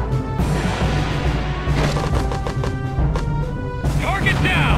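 Artillery fire mission striking in Conflict: Desert Storm, a loud, continuous barrage of crashing blasts and thuds with sharper impacts bursting through repeatedly.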